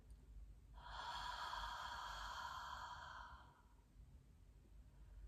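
A slow, deep cleansing breath exhaled during a guided tapping meditation, one soft, close, breathy release lasting a few seconds, heard alone in quiet.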